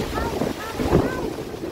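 Strong storm wind in East Texas buffets the microphone in heavy low rumbling gusts, with a voice faintly mixed in.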